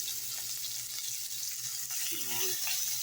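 Garlic frying in a pan alongside browned pork, a steady close sizzle crackling throughout with no talking.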